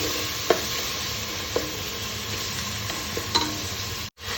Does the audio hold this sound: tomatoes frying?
yes